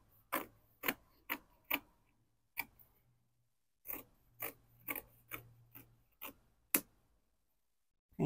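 Scissors snip through dress fabric in a quiet room, a series of sharp, separate crunching cuts in two bursts with short pauses between them.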